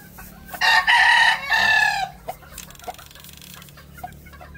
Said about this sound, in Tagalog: parang merong inahin dun sa labas.